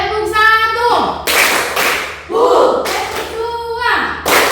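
Rhythmic hand clapping from a classroom clap game, loud and close, in short bursts of claps alternating with children's and a teacher's voices calling out.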